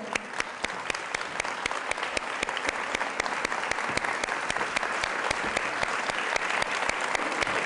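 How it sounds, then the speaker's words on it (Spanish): An audience at a novel's presentation in Xixón applauds a singing sisters' choir, a long, fairly close round of clapping with distinct individual claps cutting through the steady rattle of many hands. "Un aplauso para ellas, por favor"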